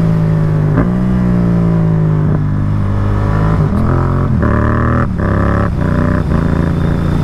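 Motorcycle engine running steadily as it is shifted up and down through the gears without the clutch, with distinct throttle blips and brief dips in revs at each shift, loud and close with no talk.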